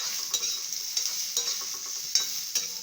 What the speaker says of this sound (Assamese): আলু দি ভাজি লওঁ।